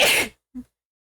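A single sharp sneeze bursts out loudly at close range, fading quickly, followed by a brief faint low aftersound and then silence.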